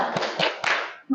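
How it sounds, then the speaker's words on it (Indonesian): Students in a classroom do the tepuk semangat spirit clap, a short patterned sequence of claps with a chanting voice running through it, ending in a sharper burst. "kita tepuk semangat dulu biar kalian tidak ngantuk ya"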